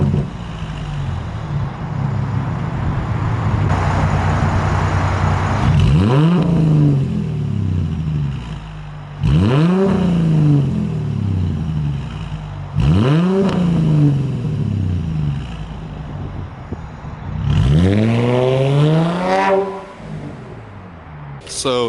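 Straight-piped Mercedes with its mufflers deleted revs four times, each sharp rising blip climbing and falling back over a loud idle, the last rev longest and highest.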